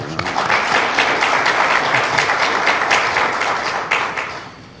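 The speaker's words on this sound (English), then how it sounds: "we must give him a round of applause" An audience at a Philippines–Canada defense agreement signing ceremony breaks into full, dense applause that holds strong and then tapers off near the end.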